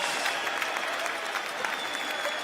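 Spectators at a UCI Trials World Cup women's final in Berlin clap and cheer in a steady, dense burst of applause from a sizable crowd, continuous for the whole stretch.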